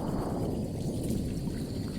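Rushing water layered into a music remix, a steady, full noisy wash that runs unbroken through the moment with no voices.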